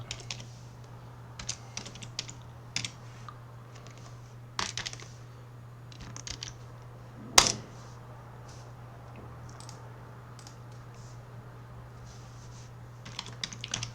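Sparse bursts of computer keyboard typing, light close clicks in short clusters with one sharper clack, over a low steady electrical hum and no talking.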